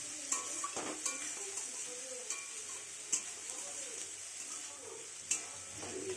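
Chopped vegetables, lightly salted, fry and get stirred in a pan at low volume, with a steady soft sizzle and scattered scraping clicks of the spatula, while birds chirp faintly in the background.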